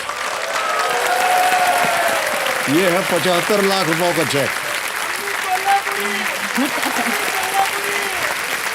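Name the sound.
studio audience applause for a contestant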